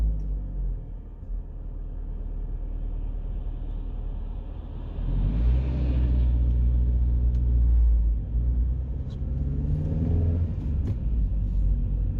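A car drives along a road near Teesside, with a low, steady cabin rumble that grows louder and heavier midway as it picks up speed, plus a few light knocks and clicks.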